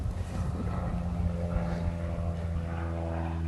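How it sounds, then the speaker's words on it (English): An airplane flies overhead outdoors, a steady loud droning engine hum with low harmonic bands sustained throughout, close and continuous with no talk. "Oh, this plane."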